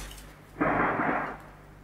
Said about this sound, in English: wow, those are a lot of fireworks